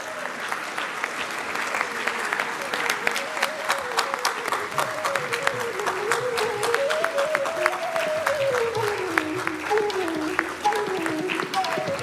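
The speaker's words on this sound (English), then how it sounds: "A huge round of applause, ladies and gentlemen, for Shri Naresh Prabhu and Chetan Kamath" Audience at an entrepreneurship conclave applauds steadily with sharp, distinct claps, while a voice speaks continuously over the clapping.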